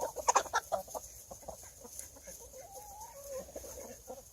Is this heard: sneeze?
no